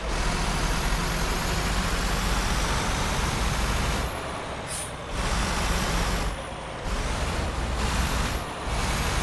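An Eicher lorry loaded with cement labours up a winding ghat road in Bus Simulator, its engine droning loud and steady, with several brief air-brake hisses and dips in the engine note near the end.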